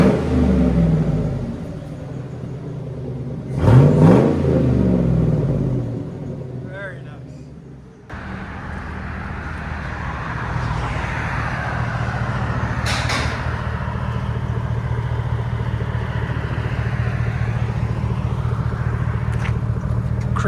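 A Hummer H2's 6.2L V8 with custom straight-pipe exhaust revs in a sudden loud surge, then settles into a deep, steady rumble nearby, with some voices heard early on.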